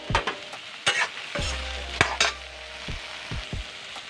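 Taro fritters (kochu bori) frying in hot oil, a soft continuous sizzle broken by several sharp clinks and scrapes of a utensil against the pan, close by with no talking.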